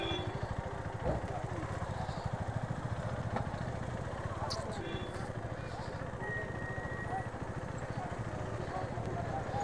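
A KTM Duke 390 motorcycle engine runs steadily up close as the rider parks near a crowded gate, a continuous low throbbing rumble with crowd noise and voices around it.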